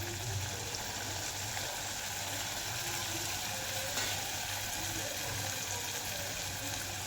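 Cluster beans frying with sautéed tomatoes in a pan give a steady, even sizzling hiss that runs unbroken at moderate volume, with no voices.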